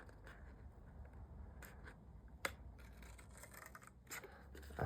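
Scissors snip through craft paper while a paper cracker is made, a few quiet, close cuts spaced over a few seconds with light paper rustling between them.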